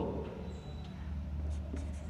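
Numbers and fractions being written by hand during a math lesson, faint scratchy strokes over a low steady hum, heard alone for about two seconds.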